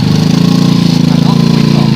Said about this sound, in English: I'm just going to give it a little bit of throttle